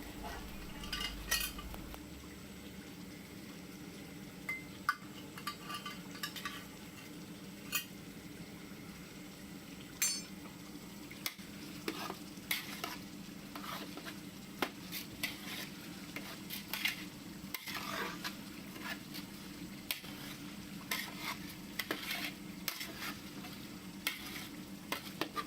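Rice stir-frying with butter in a pan for green chicken fried rice, a continuous soft sizzle under repeated scraping and clinking of a spatula against the pan, steady and close, with no talking.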